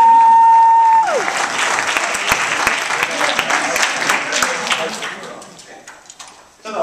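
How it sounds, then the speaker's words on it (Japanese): A steady electronic tone cuts off, then a live comedy audience breaks into loud, dense applause for about four seconds before it thins and fades toward the end. "皆さん拍手でどうぞ"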